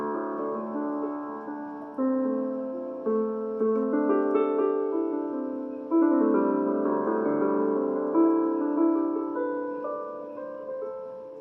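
A Roland GO:KEYS 61 keyboard plays a slow, sonata-like melodic passage. Notes are struck at a steady pace and ring with sustain in a soft, piano-like tone, heard alone without voices.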